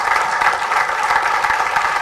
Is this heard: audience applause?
yes